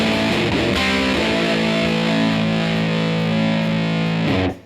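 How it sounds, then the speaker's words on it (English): Electric guitar through a full-on fuzz pedal, chords ringing thick and saturated with dense buzzing harmonics, held steadily for several seconds at a loud, even level before cutting off, with no talking. "to full-on fuzz."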